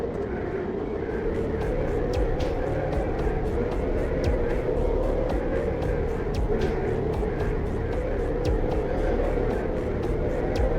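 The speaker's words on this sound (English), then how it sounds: "So the plane is our way out of here." A fixed-wing airplane in the video game Hitman Contracts gives a steady, loud engine drone that holds constant for the whole stretch, with faint regular ticking layered over it and no speech.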